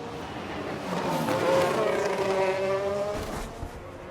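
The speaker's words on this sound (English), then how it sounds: "There's the crash." A race car crash in the F1 Manager 22 video game, with rain on track, brings a rising engine whine and tire squeal, then a short skid and scrape.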